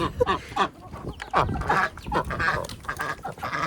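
Several ducks and chickens quack, honk and call in a noisy, overlapping chorus close by, with short irregular calls and no speech.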